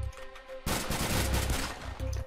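Gunfire in the survival shooter Unturned during a SWAT drug-bust roleplay, a loud, abrupt volley of rapid shots that bursts in after a quiet moment, holds for over a second, then falls back to the background hum.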